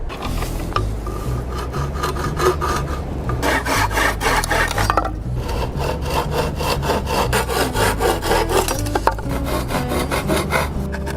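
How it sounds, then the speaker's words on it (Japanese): A rusty, dulled handsaw cuts through wood for a shelter roof, its rough rasping strokes repeating in a fast, steady rhythm, close and loud, with a brief pause midway. "9日目にもなるとノコギリはすっかり錆びついて切れなくなってしまいました"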